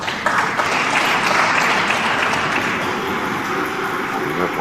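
Steady audience applause at a professional snooker match between O'Sullivan and Un-Nooh, sustained clapping from a large crowd filling the whole stretch at an even level.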